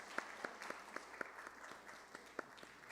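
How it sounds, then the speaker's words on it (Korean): Church congregation applauding after a Sunday service announcement, soft scattered claps in an uneven rhythm, fairly faint and thin as if from a small group in a hall. "크게 한번 박수하도록 합니다"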